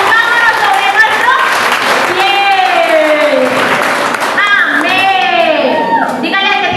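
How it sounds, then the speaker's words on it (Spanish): A church congregation gives strong, steady applause during a Spanish-language Foursquare (Cuadrangular) service, with voices and shouts carrying over the constant clapping throughout. "Entonces dale un fuerte aplauso al Rey de Reyes, Señor de Señores"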